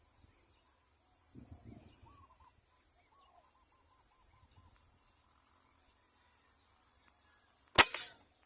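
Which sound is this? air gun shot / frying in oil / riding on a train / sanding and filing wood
air gun shot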